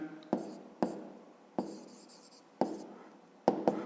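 A pen scratches across paper in short strokes with sharp taps between them, close and fairly quiet, while a maths answer is written out.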